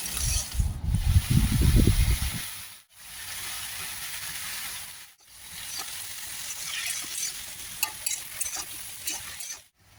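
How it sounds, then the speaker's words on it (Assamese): Lotus stems fry in a pan with a continuous hissing sizzle, broken by short near-silent gaps, while a heavy low rumble of handling or stirring at the start soon gives way to the steady frying alone. "এয়া মই পদুমৰ ঠাৰিখিনি ভাজিলোঁ"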